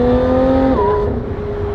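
Car engine revving high and then dropping sharply on a quick downshift, a loud close snarl whose pitch falls abruptly midway before holding lower.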